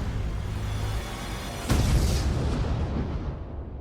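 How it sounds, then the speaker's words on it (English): A sudden explosion bursts out partway through a tense Netflix show trailer, a loud, broad boom that cuts in over the low rumbling score and then rolls on as a sustained roar. "Some kind of explosion."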